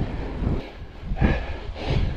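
Rough, buffeting headwind roars across the microphone while cycling, in uneven surges, loud and close, with no voices.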